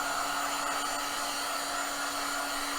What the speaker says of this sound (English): this heat gun has been going for a while and it is incredibly warm